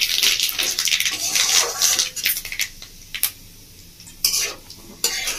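Dried chilli, kasuri methi, mustard seeds and nigella hit hot oil, giving a loud, broadband crackling sizzle that surges and fades, with a few sharp spits and utensil stirring scrapes, and no talking.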